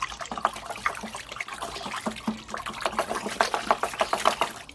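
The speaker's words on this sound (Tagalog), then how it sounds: "Halo lang natin ng maigi guys, kaya hindi natin siya dinamihan kaagad ng tubig para paghalo natin mas mabilis siyang mahalo." Liquid solution being mixed with water for a green-water culture, giving a steady sloshing, swirling splash with repeated stirring pulses, close and moderately loud throughout.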